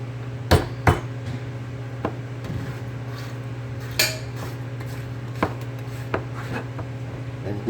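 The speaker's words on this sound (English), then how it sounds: "And tighten it down, and I tighten it down tight." A metal rim is screwed down tight onto a glass canning jar of sauerkraut, giving a few sharp metallic clinks and taps over a steady low hum, close and otherwise quiet.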